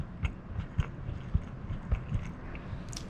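Close, quiet chewing of crunchy, succulent sunflower microgreens, with a series of soft crunching bites in an uneven rhythm and no talking.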